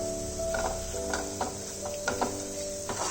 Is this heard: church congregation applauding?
no